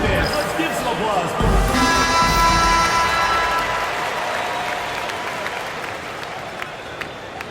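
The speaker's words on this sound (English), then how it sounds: "All right, fans, let's give some applause." Arena crowd applause and cheering during a timeout in an NBA video game on PS5, 2004 Lakers against 2008 Nuggets, loud and continuous and then easing off, with ball bounces and announcer talk over it.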